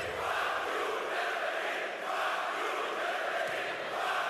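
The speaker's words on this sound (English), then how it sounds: "I think it's safe to say that chant is not in Lithuanian" Basketball crowd at a FIBA World Cup game between Lithuania and Greece chanting in unison, a loud, rhythmic wall of voices rising and falling in repeated phrases across the arena.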